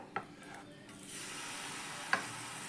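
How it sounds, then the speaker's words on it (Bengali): A ladle stirs thick flour batter over a soft background sizzle, with two sharp clinks of the ladle against the bowl near the start and end. "এখানে ভালো করে একটু হাতা দিয়ে আবারও একবার মিশিয়ে নিলাম"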